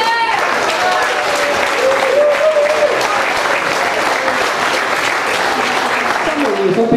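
An outdoor audience at the 2012 Hirtshals fish festival applauds and cheers a contest in a dense, continuous roar of clapping, while a voice talks over the crowd.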